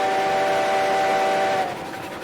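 A train in the video game Railroads Online sounds a loud, sustained whistle over a rumbling roll, the tone cutting off and the sound dropping lower toward the end.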